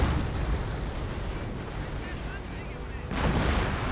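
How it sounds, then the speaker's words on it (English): Booming 25-pounder artillery fire in the World War II strategy game Company of Heroes, with heavy blasts at the start and again near the end over a continuous rumble of battle noise. "the AI's Panther Grenadiers getting annihilated by the 25 pounder"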